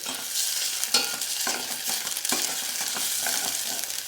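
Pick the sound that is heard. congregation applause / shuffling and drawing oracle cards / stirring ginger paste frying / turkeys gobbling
stirring ginger paste frying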